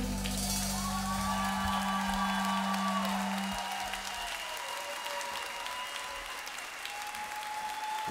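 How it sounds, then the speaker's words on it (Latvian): Concert audience applauding a live folk orchestra show at Sapņu Fabrika: sustained dense clapping from a large crowd, a fading held musical note at the start, then steady applause continuing alone. "Īpaši ovācijas Kasparam."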